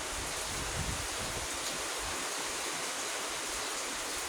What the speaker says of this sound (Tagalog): may hangin na. Hangin habagat